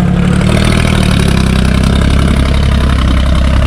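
A vintage Ford 3600 tractor's diesel engine runs steadily close by, a loud, even chugging throb with no voices over it.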